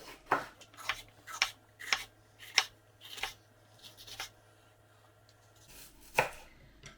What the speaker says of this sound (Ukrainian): І почнемо з того, що перець будемо нарізати кружельцями.